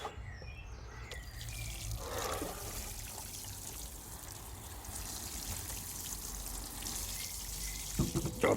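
Water pours steadily from a can onto brassica plants in a garden bed, carrying a nematode solution: a continuous close splashing trickle with no break, faint clunks near the end.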